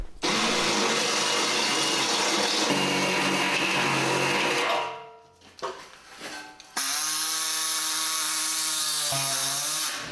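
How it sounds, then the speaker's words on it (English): A harsh, high-pitched power drill with a step drill bit grinds steadily through a Harley gas tank's metal, pauses briefly, then resumes with a whining, tonal drone; close and loud. "I use a step drill bit because I'm lazy"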